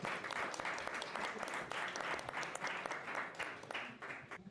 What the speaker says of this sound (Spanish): Un aplauso por favor para Freddy.